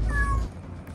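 A pet cat at home gives a single clear meow lasting under half a second, close and fairly loud, followed by quiet room tone.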